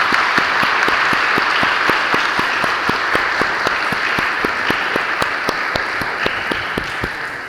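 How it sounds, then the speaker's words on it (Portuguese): Church congregation applauding a vocal group at a Sunday service, a dense steady roar of many hands with sharp individual claps standing out throughout, loud and continuous. "Salva de palmas."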